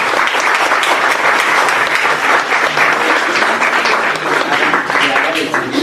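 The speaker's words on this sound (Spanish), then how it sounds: "yo quiero un aplauso para los ponentes." Loud, sustained applause from an audience honoring the speakers at a university sociology of law conference, a thick continuous roar of clapping lasting several seconds with a few voices mixed in.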